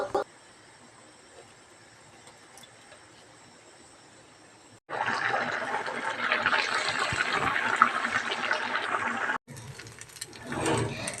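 Water pours into a pot of sambar in a steady burst of about five seconds, louder than the quiet kitchen noise before it. A short splash follows after a brief pause.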